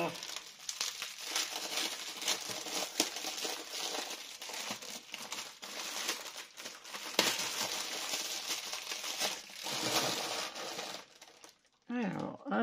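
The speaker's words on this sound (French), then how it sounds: "J'essaie de déballer sans faire trop de bruit." A well-taped gift parcel being unwrapped slowly and carefully, giving a long stretch of close, continuous crinkling and tearing of tape and packing material with brief rustling pauses.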